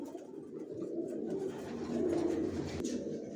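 Racer pigeons, a pair of young 2023 birds, coo softly in low repeated murmurs close by, with faint background noise and no talk.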